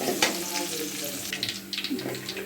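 Ginger and garlic frying together in a pan with a soft sizzle, light clinks and stirring noises over a low background hum.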